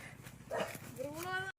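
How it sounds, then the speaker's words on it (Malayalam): A family dog barks and whines up close outdoors near a forest, a few short yelps rising into a longer whimpering howl before cutting off. "പാവിക്കുട്ടൻ്റെ പട്ടി പാവിക്കുട്ടനെ നോക്കി കുരയ്ക്കുന്നു."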